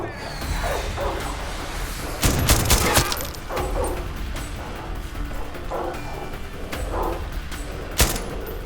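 Enemy gunfire in the shooter game Far Cry 6, a busy mix of rapid gunshots and sharp impacts, with a louder burst in the middle and another sharp crack near the end.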